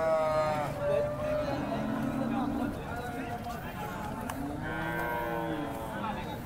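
Holstein Friesian cows mooing repeatedly at the Sangola cattle market, several long, low, drawn-out calls overlapping, with busy outdoor background noise and distant voices.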